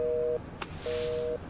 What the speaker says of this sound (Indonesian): Dan tiba-tiba telepon itu mati.